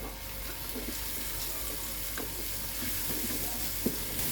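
Chopped onion sizzling with half-cooked garlic in oil in a frying pan, a steady fine crackling hiss with occasional soft stirring taps, moderately loud and without talk.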